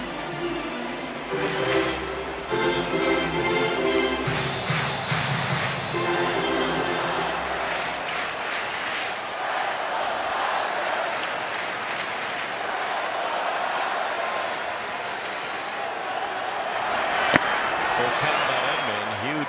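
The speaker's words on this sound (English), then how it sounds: "Crowd sellout here tonight, making a lot of noise." A sellout crowd at a Yankees vs Dodgers baseball game produces a dense, steady roar of cheering and noise in a large stadium, with a commentator talking over it at the start.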